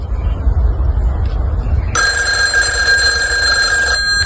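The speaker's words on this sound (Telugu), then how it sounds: "అది నా ఫోన్ రింగ్ టోన్." A mobile phone hidden in someone's pocket rings with a bright electronic ringtone that starts abruptly after a couple of seconds of low room noise and plays steadily for about two seconds.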